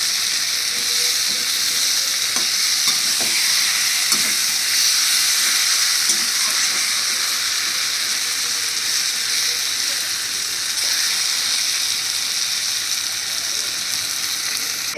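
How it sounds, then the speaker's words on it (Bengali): An egg and potato curry sizzles steadily in a pan as a little water goes in, giving a dense, even frying hiss with faint scraping and occasional soft clinks throughout. "এবার আমি এর মধ্যে জল দিয়ে দেবো"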